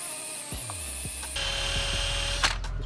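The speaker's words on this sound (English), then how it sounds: "I got one of these drill sticker wheel things, and it works all right" A drill-mounted sticker eraser wheel whines steadily as it strips old graphics from a Sea-Doo 750sxi jetski hull, a rising spin-up followed by a sustained, close, loud grinding tone with brief scuffs.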